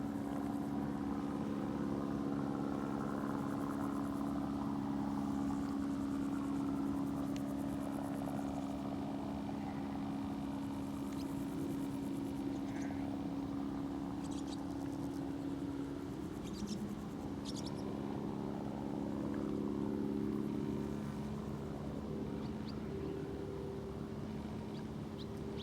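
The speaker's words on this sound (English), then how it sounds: "Now that plane's gone past." A private light aircraft drones past overhead on a countryside walk between Amberley and Arundel, its steady low engine hum continuous and fairly loud, with faint birds chirping above.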